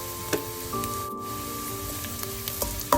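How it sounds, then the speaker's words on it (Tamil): Fenugreek seeds and chili powder hit hot oil with onions in a pan, a steady close sizzle with a few clicks of a spoon against the pan. "இதுக்கு இனிமே வெந்தயம் சேர்ப்போம். சேர்த்துட்டு ஒரு கொஞ்சமா தனிமிளகாய் பவுடர் சேர்ப்போம்."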